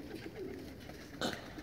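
A domestic pigeon coos softly, a faint low call against quiet background noise, ending with a brief flutter-like burst.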